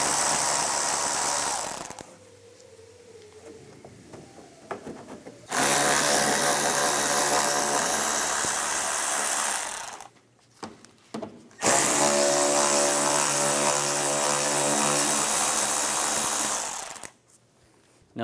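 Power tool driving a 7mm socket to remove front bumper screws on a 2015-2019 Lincoln MKC, with loud sustained whirring bursts separated by quieter gaps, close and without talk.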